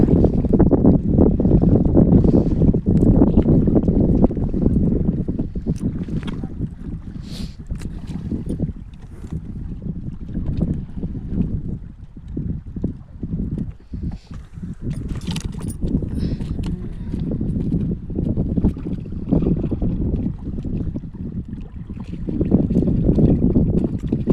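Strong pre-storm wind roars and buffets the microphone in heavy gusts at sea, with a low rumble of a fishing boat underneath.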